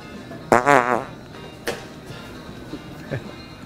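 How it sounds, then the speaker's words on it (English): A single short buzzy fart of about half a second, loud and close, followed by quiet room noise with a few faint clicks. "Fart."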